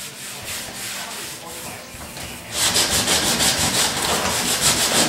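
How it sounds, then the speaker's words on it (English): Coarse 80 or 40 grit sandpaper worked over the fiberglass of a car bumper, quieter at first, then loud, fast, rhythmic rasping strokes up close. "Gotta make sure this fiberglass that's part of the bumper is sanded pretty good"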